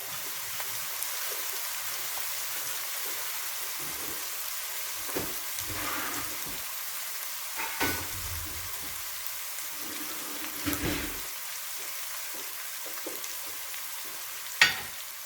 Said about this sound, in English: Let it fry off a little bit.